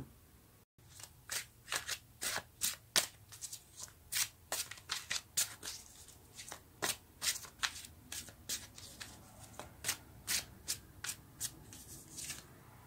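Tarot cards are shuffled by hand in a quiet room, with around thirty short crisp riffling slaps in a loose, steady rhythm, close and distinct against near silence.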